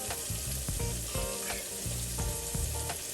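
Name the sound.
shrimp sizzling while frying in a pan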